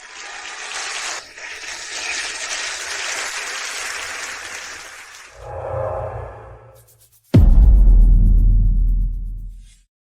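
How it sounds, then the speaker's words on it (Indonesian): Wedding guests applaud as the groom looks toward the door for the bride: several seconds of steady crowd clapping, then a short swell of other sound and a sudden loud low-pitched burst that fades out. "Dengan tepuk tangan yang tulus."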